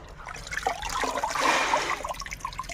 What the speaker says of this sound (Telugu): ఇలా నీళ్ళలో జలపరియాలి ఆకుకూర